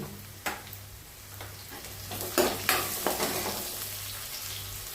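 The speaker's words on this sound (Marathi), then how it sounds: "थोडी अशी फोडणीसाठी ना मोहरी घालूया आपण थोडेसे जिरे" Mustard seeds and cumin fry in hot oil for a tempering alongside chopped garlic, giving a soft continuous sizzle with a few sharp pops and stirring scrapes, fairly faint and close.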